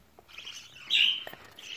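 A budgerigar at home chirps in a short burst of bright, close tweets, with a few faint clicks around it.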